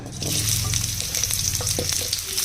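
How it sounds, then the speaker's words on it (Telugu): Chopped onions sizzle steadily in hot oil in a pan, a close continuous frying hiss with a few stirring scrapes, no talking. "ఇప్పుడు మనం వీటిని సాఫ్ట్ అయ్యే వరకు ఫ్రై చేసేసుకుందాం."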